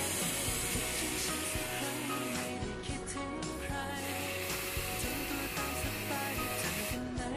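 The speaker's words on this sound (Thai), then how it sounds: "เราก็เลยจะเอาสเปรย์เนี่ยฉีดซะหน่อยนะครับ" Hair spray misted onto freshly styled hair, a continuous airy hiss that holds steady throughout at moderate level, with no voices.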